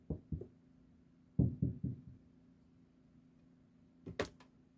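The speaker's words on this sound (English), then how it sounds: "Do you guys hear that? The knocking?" Knocking on a door comes in several short groups of two or three dull thuds, nearby and moderately loud, with a quiet steady hum between the bursts and no talking.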